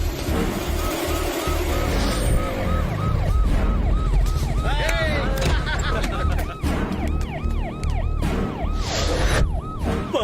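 An ambulance siren wails in repeated rising and falling sweeps, loud and close amid road traffic noise, continuing steadily throughout.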